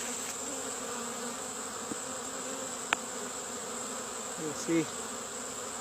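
Bees around a Kenyan top bar beehive make a steady, close buzzing hum throughout, with a brief spoken word partway through and a few small knocks.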